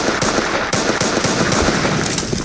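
Rapid gunfire from Roblox Poly Guns, loud and close, cracking in a dense burst of shots that spreads across the whole span with no pauses.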